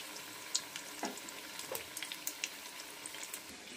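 Chicken cutlets fry in white oil, a soft crackling sizzle with scattered pops and a few light clinks, close but quiet, no voices.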